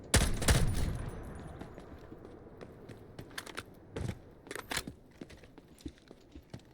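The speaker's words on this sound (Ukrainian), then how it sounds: "я чув тут постріли" Irregular bursts of gunfire in the video game Delta Force, a few loud close shots followed by scattered fainter shots further off, with quiet background rustling between them.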